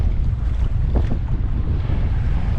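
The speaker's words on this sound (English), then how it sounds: "But I knew it was going to be windy." Loud, gusty wind on Lake Mead buffets the microphone with a heavy roar, mixed with water sloshing nearby, continuous throughout with no voices.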